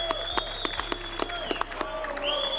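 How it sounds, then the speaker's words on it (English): A crowd at a boxing event bursts into sustained applause and clapping for a new undisputed light heavyweight champion, loud and continuous, with scattered cheering and some mixed-in voices. "a huge round of applause for the new undisputed light heavyweight champion of the world, Dmitry Bivol."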